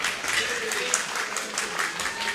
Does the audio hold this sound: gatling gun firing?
no